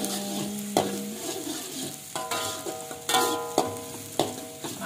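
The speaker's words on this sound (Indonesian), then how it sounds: "Kita panaskan dulu bawang merah, bawang putihnya." Shallots and garlic frying in a pan for nasi goreng, a steady close sizzle with repeated scraping stir strokes every half second or so, no voices.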